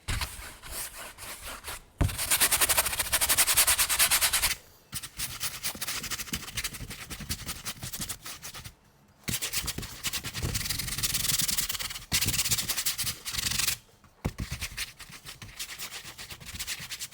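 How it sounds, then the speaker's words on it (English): Brush rubbing tonal ground smoothly across a painting surface, long steady scraping strokes in close, continuous passes separated by brief pauses. "after you've applied it, you can rub the brush along it nice and smoothly"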